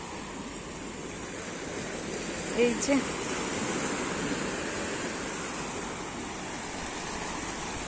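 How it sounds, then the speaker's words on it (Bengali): Sea waves wash in close to shore at the Digha beach, a steady, soft broadband roar of surf, with a voice speaking briefly. "জলের আওয়াজটা খালি শোনো"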